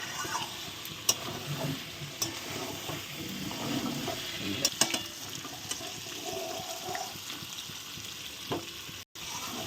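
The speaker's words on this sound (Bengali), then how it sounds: "এখন ভালো করে কষিয়ে নিই" Chicken curry with potatoes and eggs stirred and fried in a pan gives a quiet, continuous sizzle with occasional soft clinks and scrapes of a spoon, heard alone.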